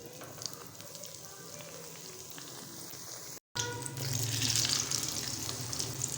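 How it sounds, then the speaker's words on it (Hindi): A besan-coated naan frying in oil, with a soft sizzle that drops out for a moment and then returns louder and fuller. "इस तरह से दूसरा नान भी फ्राई कर लेंगे"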